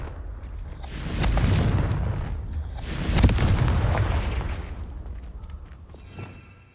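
Two heavy explosive blasts of the Confringo spell in the video game Hogwarts Legacy, each a deep booming burst around one and three seconds in, followed by rumbling decay and a quieter pop near the end.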